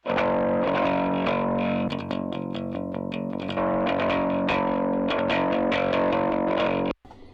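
Bass guitar run through a Waves GTR distortion effect, with no amplifier model engaged: a thick, continuous overdriven tone with repeated note attacks for about seven seconds, then a sudden stop near the end.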